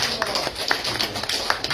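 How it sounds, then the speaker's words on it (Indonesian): A church congregation claps for Jesus, a brief burst of crisp, uneven hand claps from many people nearby, the taps scattered rather than in unison. "kita tepuk tangan buat Tuhan Yesus"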